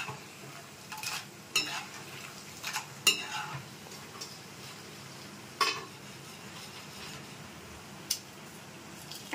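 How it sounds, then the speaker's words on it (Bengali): Nimki frying in hot oil in a home kitchen, with stirring and scraping clatter from a utensil against the pan and a few sharp clinks over a low, steady sizzle. "এভাবে আমি ভেজে নিচ্ছি, দেখুন কিরকম খাস্তা হয়"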